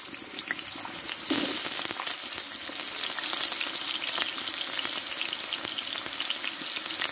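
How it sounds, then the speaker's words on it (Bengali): Small diced potatoes sizzle in hot white oil in a wok, a steady loud frying hiss that swells after the first second and runs on evenly, with no voices. "দেখো এখানে আমি একটা মোটা সাইজে আলু ছোট করে কেটে নিয়েছি। আলুটা কষে নেব।"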